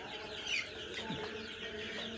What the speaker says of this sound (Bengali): এগুলো সবগুলো রাতা মুরগি